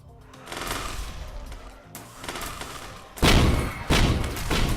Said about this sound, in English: when you hit multiple enemies with something like an explosion, you're going to get a lot of sound off of it